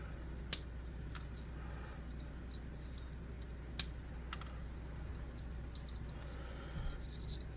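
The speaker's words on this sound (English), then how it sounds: "So I'm just going to get some pieces of wire and snip them up" Wire snipped into pieces of different lengths for the spikes on a model manticore, a few sharp isolated clicks of the cutters spaced seconds apart over a faint, steady background, with no talking.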